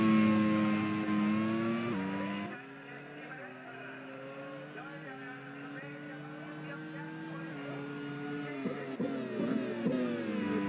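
Race car engines in a Grand Prix World Series racing video game, with sustained high-pitched whines that rise and fall through gear shifts under continuous commentary.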